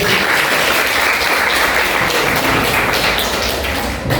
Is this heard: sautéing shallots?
no